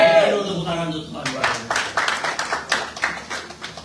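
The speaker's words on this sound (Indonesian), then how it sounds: "Tepuk tangan untuk Tuhan." Church congregation clapping in unison at a Good Friday service, a steady rhythmic series of claps building after an opening stretch of sung or spoken voice.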